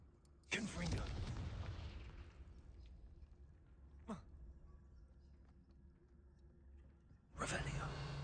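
Confringo explosion spell in a Harry Potter video game: a sudden loud boom at about half a second with a long rumbling tail, a sharp crack near four seconds, then another heavy blast right at the end.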